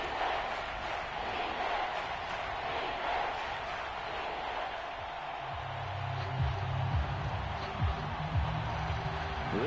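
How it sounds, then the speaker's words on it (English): Stadium crowd noise from a football video game, Jets against Falcons near the goal line late in the game, a steady broad roar of cheering that holds throughout with a few louder swells toward the end. "This crowd doing all they can."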